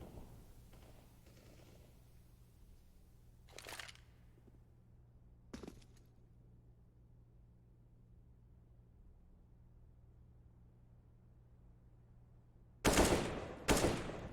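Gunfire in Counter-Strike on the Mirage map during a professional tournament match, a few faint isolated taps early on, then two loud close bursts of shots near the end, with no talk.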